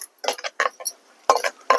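A spatula clinks and scrapes in a pan as urad dal, mustard seeds and cumin are stirred in hot peanut oil, in short bursts of metallic scraping separated by brief pauses.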